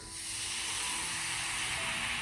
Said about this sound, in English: So re-wet the cloth again, soak the wood, steam it several times